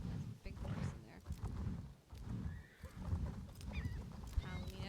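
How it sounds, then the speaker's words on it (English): Horse neighs and whinnies from the video game Star Stable, a few short tonal calls over a busy, rumbling game soundscape with voices in the background. "That's a big horse in there."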